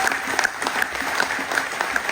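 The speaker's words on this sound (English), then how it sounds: "Give another round of applause." An audience applauds steadily at an award ceremony for a rookie of the year, the dense clapping filling the whole short stretch at an even level, with a faint voice just under it.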